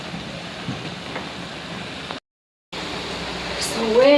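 Meat sautéing in a little water in a hot pan gives a steady, noise-like sizzle and hiss that cuts out briefly midway, then returns a little louder.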